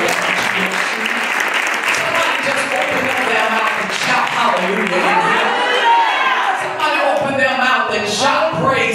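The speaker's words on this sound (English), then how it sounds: "Clap your hands on your prayer." Congregation clapping hands at a church service launch event, a busy steady applause with scattered cheers and voices talking over it throughout.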